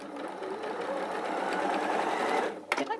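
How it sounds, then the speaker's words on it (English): A sewing machine runs steadily stitching down the side of a piece of fabric for a doorstop, a fast, even whirring hum that stops abruptly near the end, followed by a brief clatter. "And just sew down the side."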